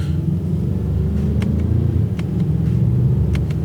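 A 2021 Mazda CX-9 engine revving up as it pulls through the gears, a steady low rumble from inside the cabin with no talk over it.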